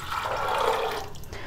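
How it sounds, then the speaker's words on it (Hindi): Water pours into a pressure cooker holding soaked white chickpeas for Lahori cholay, a soft, continuous splashing and filling sound at moderate level. "अब हम इसमें पानी इतना ऐड करेंगे कि जिसमें हमारे जो चने हैं वो अच्छे से डिप हो जाएं"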